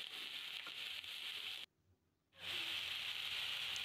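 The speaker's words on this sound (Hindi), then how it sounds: "सारी मिक्स वेजीज़ इनको हल्का सा फ्राई करेंगे हम टू मिनट के लिए स्टर फ्राई करेंगे" Mixed vegetables and onion stir-frying in a kadhai for a Manchurian gravy, a steady close sizzle and hiss that cuts out briefly, then returns louder.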